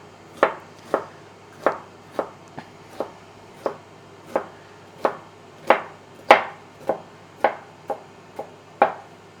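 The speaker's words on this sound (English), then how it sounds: "just cut it lengthwise. Then cut across for some cubes." A knife chops food on a cutting board into cubes, cutting lengthwise and then across. Roughly seventeen crisp, evenly spaced thuds fall close and clear, with no talk.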